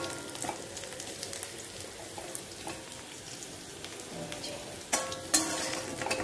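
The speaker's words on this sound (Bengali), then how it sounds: "এই মাছ আর আলু আমি ভেজে রাখছি এখানে।" Pieces of fish and potato fry in hot oil in a home kitchen pan, giving a steady, soft sizzle and crackle with a few sharper pops and light clinks near the end. No one speaks.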